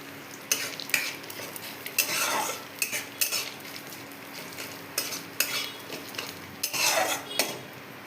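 Dried red chillies, five-spice seeds, grated ginger and asafoetida frying in hot mustard oil, a steady close sizzle broken by repeated sharp scrapes and clinks of a metal spoon against the pan, with no talking.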